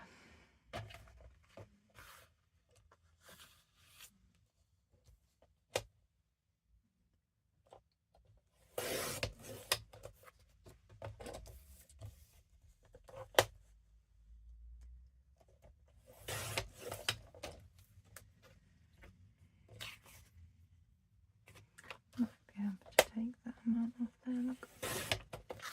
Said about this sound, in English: let's trim this up